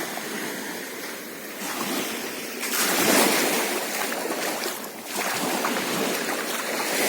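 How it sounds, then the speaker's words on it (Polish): Steady broadband wash of surf rolling onto Sombrerico beach, swelling louder around the middle, with wind noise across the microphone. "stanęliśmy w takim miejscu przy samej plaży"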